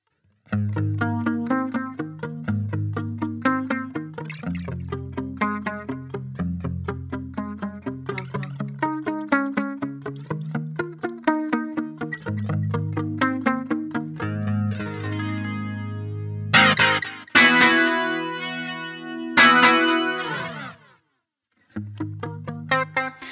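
An electric guitar through a Line 6 Helix modeling a Roland Jazz Chorus 120 plays picked chords and melodic runs, shimmering with chorus and trailing delay echoes that repeat each note, ending in brighter accents.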